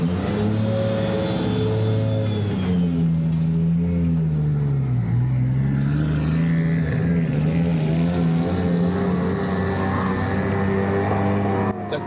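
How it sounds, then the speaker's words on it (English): A supercharged car engine with a worn-out, slipping clutch revs hard and holds high, its pitch sagging and climbing again in long sustained pulls, loud and close with no voices. "It's just revving and the car's not moving."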